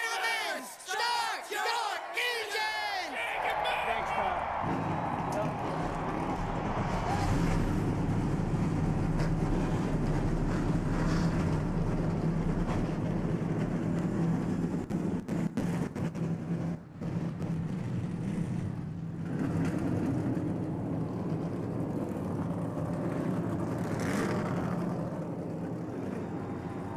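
Many NASCAR stock car engines fire up together before the Coca-Cola 600, swelling into a loud, sustained roar with crowd noise blended in and no voices over it.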